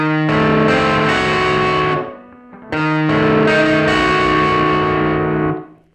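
An electric guitar played through distortion and effects strums sustained diminished chords, two long ringing chords, loud and alone with a short gap between them.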